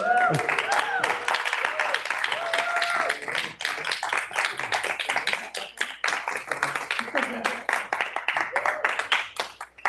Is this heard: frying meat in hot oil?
no